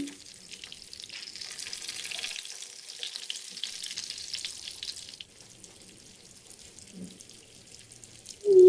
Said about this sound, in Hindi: उन्हें तैयार होने तक फ्राई करेंगे